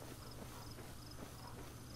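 Horse hooves clip-clop at a walking pace in the game Breath of the Wild, a steady, muted rhythm under constant ambient game noise with faint insect-like chirps.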